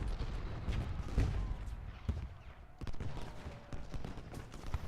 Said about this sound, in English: Let's give them some canister fire.